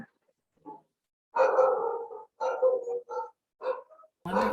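A dog barks in a series of separate bursts, fairly close and clear, with short pauses between them, heard during a spiritual gathering's invocation.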